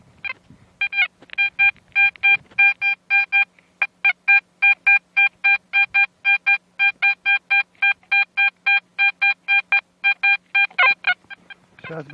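A metal detector sweeping for coins and silver in the ground gives a loud, steady train of rapid electronic beeps, dozens of short pulsed tones repeating evenly for the whole stretch, with no talking.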